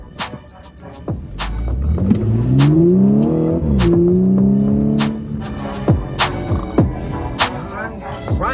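A car accelerates away nearby, its engine revving and rising in pitch through a couple of gear shifts before fading, with sharp clicks and light knocks scattered around it.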